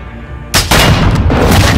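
A sudden loud burst of gunfire in Call of Duty: Modern Warfare 2 after a moment of quiet, followed by sustained booming shots and explosions.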